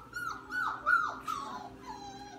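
Puppies whimper and yip in short, high-pitched bursts, several soft cries in quick succession over a faint steady hum.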